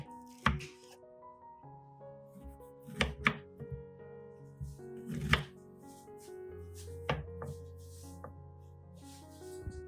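A knife slices through a pineapple in several distinct crisp cuts with thunks on the board, spaced irregularly over quiet background music.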